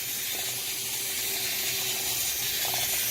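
A mixer whirs and scrapes through resin in a plastic cup, giving a steady, close grinding hiss with a couple of faint clicks.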